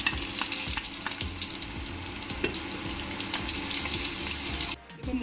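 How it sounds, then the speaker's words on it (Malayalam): Chilies and onion sizzle in hot oil with mustard seeds for a pumpkin thoran, a steady close frying crackle with stirring that cuts off abruptly near the end, no talking. "മുളകും ഉള്ളിയും കൂടി ചേർത്ത് കൊടുക്കാം."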